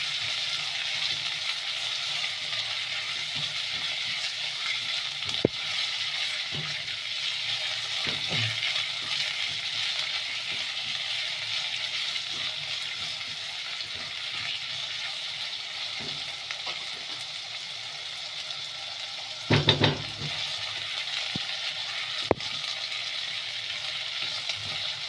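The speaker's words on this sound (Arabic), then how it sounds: "اللحمه بالبصله كده هشوحها برضه" Meat and onions sauté in a pan with a steady, close sizzle and frying hiss, broken by a few clinks and scrapes of stirring, with no talking.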